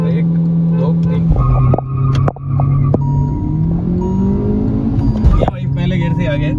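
Two cars, a Kia Seltos and a Hyundai Verna, launch in a drag race, engines revving loudly with rising pitch as they accelerate through the gears, a sharp burst near the end, with people talking over the engine noise.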